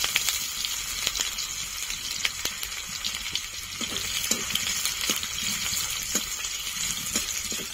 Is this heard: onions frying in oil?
yes